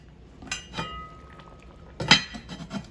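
A heavy lid clanks onto a hot Dutch oven of venison stew. A couple of light metallic knocks come first, then one sharp ringing clang, followed by softer clinks.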